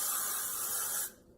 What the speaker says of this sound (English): Or if you've got some Got To Be at home, this stuff does the same thing. So you can spray that